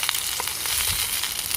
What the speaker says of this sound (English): 6 sizzling sausages in the stainless pan.